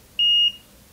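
A single clean electronic beep lasting about a third of a second from a multimeter in continuity mode, probing a coil on a Z97 G45 desktop gaming motherboard; close and clear over a quiet background.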